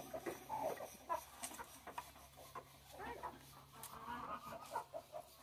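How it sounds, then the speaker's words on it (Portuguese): Hens cluck softly in a coop, scattered low calls and rustling heard faintly and close by, with quiet background hum. "Ali onde as galinhas dormem."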